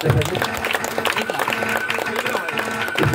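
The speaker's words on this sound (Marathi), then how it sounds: "जोरदार टाळ्या" A crowd at a village cricket tournament ceremony in Katalwadi, Ratnagiri, gives dense, continuous applause while voices carry through it.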